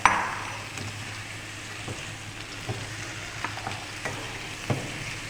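Pumpkin fries with softened onions in a pan under a low, even sizzle, with sparse soft knocks and scrapes from stirring.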